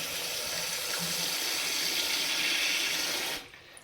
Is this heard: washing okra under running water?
yes